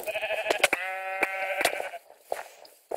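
Sheep in a Minecraft minigame bleat repeatedly, several wavering game bleats overlapping with sharp clicks and hits, fairly loud and close before a quieter stretch with a few isolated taps.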